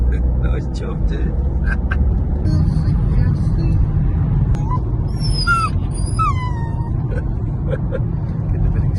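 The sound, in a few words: excited dog whimpering in car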